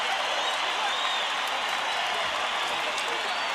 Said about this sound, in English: As the mariachi band departs to thunderous applause.